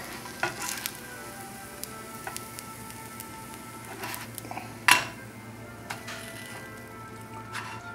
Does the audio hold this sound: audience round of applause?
no